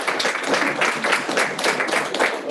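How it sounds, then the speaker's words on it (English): A small audience at an office team meeting gives a round of applause, producing a steady, dense patter of hand claps that swells and dips slightly without any voices over it. "Give me a round of applause."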